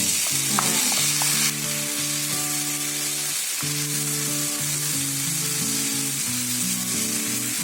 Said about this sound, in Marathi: कांदा फ्राय व्हायचा बाकी आहे, त्यासोबत आपण टोमॅटो टाकूया, म्हणजे ते दोघं मिक्स होऊन एकदम फ्राय होऊन येतील चांगले